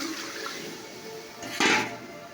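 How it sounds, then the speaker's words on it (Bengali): Water poured into a cooking pot of simmering spiced fish curry, a soft bubbling hiss building into a brief louder gush partway through, close and without talk. "তো এবার আমি জল দিচ্ছি"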